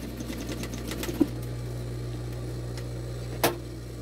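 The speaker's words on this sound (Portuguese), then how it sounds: "você desce a agulha, levanta o pezinho da máquina, vira. E aí, você continua a costurar." A sewing machine stitches a small boot, running with a soft, rapid mechanical whirr and needle chatter at first, then settling into a low hum with a couple of isolated clicks.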